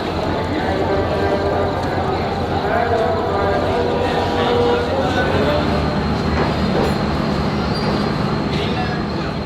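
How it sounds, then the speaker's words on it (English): A 22-hour sleeper train to Islamabad pulls into Karachi's restored station, its steady loud rumble filling a busy platform with a continuous wash of rail noise. "So as you can see, our train has arrived."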